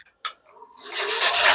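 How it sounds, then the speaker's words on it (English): Sanding a wooden project by hand: a single knock, then a close, steady abrasive rasp that builds in loudness and keeps going, with no voices. "we're gonna do some quick sanding and then we'll call this project done"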